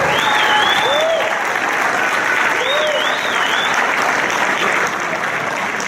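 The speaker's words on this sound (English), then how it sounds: "Let's have a nice round of applause for them." Audience applause for Team Effort Award winners at an awards ceremony, a dense, loud, sustained clapping that fills the whole stretch, with birdlike whistles rising and falling over it.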